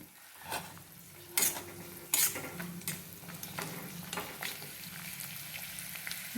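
Asafoetida and crumbled leftover chapati stir-fried in a pan: steady sizzling with a few sharp spoon scrapes and clanks against the metal, close and fairly quiet, with no talking.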